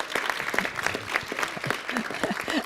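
People at a city council meeting applaud, a brief burst of moderately loud clapping with distinct individual claps audible and a voice or two murmuring underneath.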